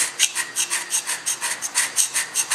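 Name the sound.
hand scraper scraping a metal surface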